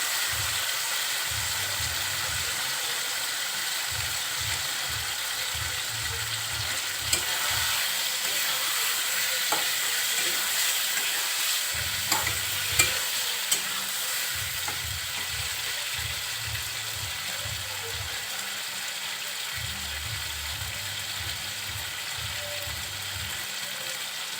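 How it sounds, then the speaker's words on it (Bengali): Boiled beef tripe is stir-fried in spiced oil in a pan, giving a continuous close sizzle with occasional spatula scrapes, while a low intermittent humming drone comes and goes underneath; nobody speaks. "সুন্দরভাবে কষিয়ে নিচ্ছি"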